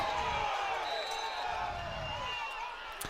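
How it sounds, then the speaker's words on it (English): Lobos fans in a football crowd at the Snowflake vs Cactus game send up a distant, steady roar of reaction beneath a commentator's voice, with a sharp thump near the end. "You can hear the crowd"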